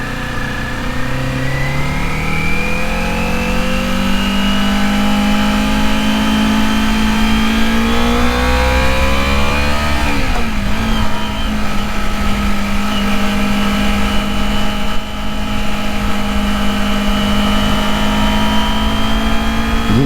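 A Kawasaki Z250 motorcycle engine revving hard at high rpm while riding, loud and close, pitch climbing through the gears with a brief drop around a shift before rising again.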